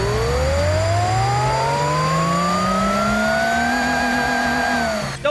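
In a video game, a drag car engine running on E85 fuel revs steadily upward, its loud, buzzing tone rising in pitch for about five seconds before cutting off abruptly at the end.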